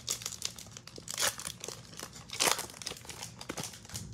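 Crinkling foil wrapper of a 2020 Topps Chrome baseball card pack being torn open up close, bursts of crisp crackling and ripping with two louder tears, quiet between.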